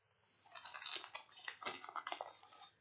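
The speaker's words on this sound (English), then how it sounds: "And you just chew on them and suck on them." Close-up chewing of Redman loose-leaf chewing tobacco, moist crunching and squishing bites repeating irregularly, loud and near with no talking.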